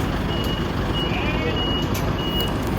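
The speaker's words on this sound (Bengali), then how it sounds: "মুহূর্তেই আট থেকে দশটা ফায়ার সার্ভিসের গাড়ি চলে আসে" Fire service trucks arriving at an apartment block after a kitchen fire scare, with steady repeating reversing beeps over a dense, loud engine rumble and street noise, and voices faintly in the background.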